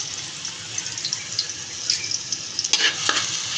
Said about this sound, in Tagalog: Isa-gisa lang natin yan hanggang sa mga golden brown